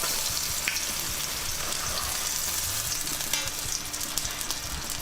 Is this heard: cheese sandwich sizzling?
yes